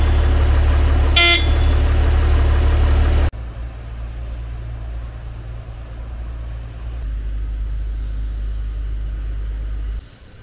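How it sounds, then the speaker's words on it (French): A heavy truck pulls away from a truck repair garage: a loud, close diesel rumble with a sharp horn blast early on, then the engine noise drops suddenly and lingers as a lower, fainter drone. "ça y est, le camion est parti"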